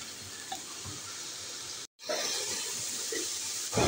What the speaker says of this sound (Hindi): अब ये देखें मसाला बहुत अच्छे तरीके से फ्राई हो रहा है।